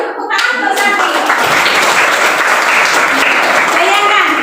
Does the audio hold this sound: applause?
yes